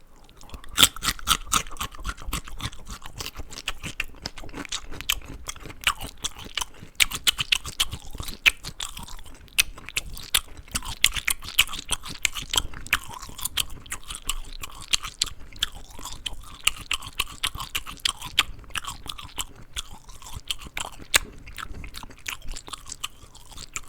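Crunchy food being chewed and bitten up close for ASMR, with dense, crisp crackling crunches packed continuously throughout and no talking.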